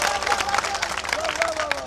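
Audience applause at an Urdu mushaira poetry recital, dense continuous clapping from a crowd with some cheering, steady and fairly loud, with a voice faintly over it.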